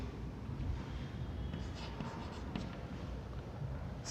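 Pencil drawing a radius line on paper with a compass construction, a faint, soft scratching that runs steadily and quietly, with no talk.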